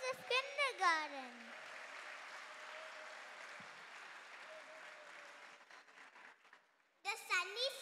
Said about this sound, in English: let us once again give a round of applause for all the performers of kindergarten